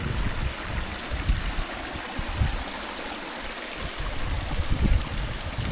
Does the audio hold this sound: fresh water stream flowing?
yes